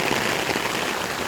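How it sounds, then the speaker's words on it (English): Steady rain falling during Hurricane Eta flooding, a dense continuous hiss of drops on surfaces, close and even, with no talk. "And it's raining again."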